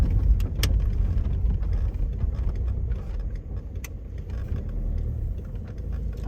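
A 2006 Volkswagen Passat B6 with a 2-litre, 140-horsepower diesel engine is pulling out onto the road, a steady low engine rumble heard from inside the car with occasional small rattles.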